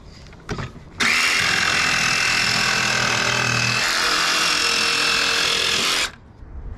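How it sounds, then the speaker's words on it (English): A jigsaw cuts a rough round shape, a steady loud buzzing whine that runs about five seconds without a break, then stops. Faint handling noises come before and after it. "Clip it in place, lock it in place, and you can just do your jigsaw cuts."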